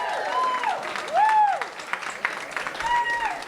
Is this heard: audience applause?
yes